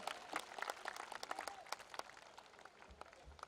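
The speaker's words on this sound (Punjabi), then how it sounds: "ਇੱਕ ਵਾਰੀ ਬਾਈ ਉਹਨਾਂ ਦੇ ਨਾਂ ਤੇ ਤਾੜੀ ਮਾਰ ਦਿਓ" An audience applauds at a Punjabi comedy show, a faint, scattered patter of many hands clapping that gradually thins out.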